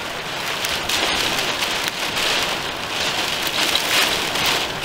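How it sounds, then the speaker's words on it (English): Rain mixed with hail pelts down by the sea in wind-driven horizontal sheets, a steady loud hiss of drops striking surfaces with no voices. "Water, rain and hail."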